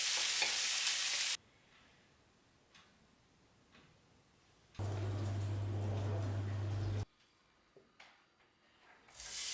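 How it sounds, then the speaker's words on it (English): Diced bacon frying in a pan of hot vegetable oil, a loud bright sizzle in two bursts, the second one with a low hum beneath it, separated by quieter stretches of soft ticking and stirring. "once the pan is hot, toss in the diced bacon"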